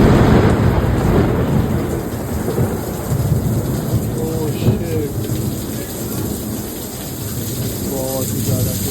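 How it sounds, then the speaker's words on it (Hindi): Heavy rain pours down during a thunderstorm, a dense continuous roar of falling water with low rumbling thunder underneath and a few faint brief sounds around, loud and close throughout. "भाई बहुत ज़्यादा ही तेज़ बारिश आ रही देखो।"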